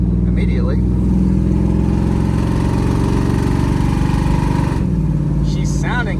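A Ford OBS truck engine with its first performance mod runs steadily nearby, a loud continuous low rumble that holds even throughout, with a faint voice briefly over it.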